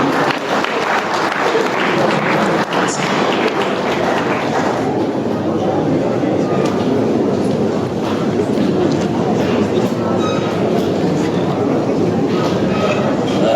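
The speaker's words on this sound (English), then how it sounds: "please kindly do a round of applause to welcome Professor Mahmoud Bashari" A round of applause welcoming Professor Mahmoud Bashari at a Nigerian regional development conference: loud, dense clapping from the audience at the start that thins out partway through as murmuring and scattered claps continue.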